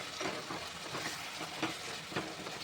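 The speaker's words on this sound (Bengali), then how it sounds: "হাই ফ্লেমে আমি কষাচ্ছি।" Mutton with onions and curd fries on high flame in a pot, making a dense, continuous close sizzle with repeated scraping stir strokes and no talking.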